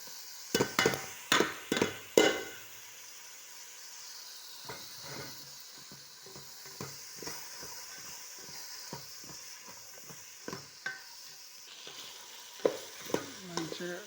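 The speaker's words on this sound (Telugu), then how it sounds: "ఇప్పుడు కాకరకాయలు వేసుకుందాం" Bitter gourd pieces fry in a pan with a little chilli powder, a steady sizzle broken by sharp clustered scrapes and clacks of stirring, loudest at the start and again near the end, with no voices.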